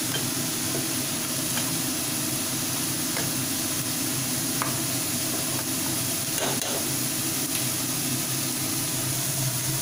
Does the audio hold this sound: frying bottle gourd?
yes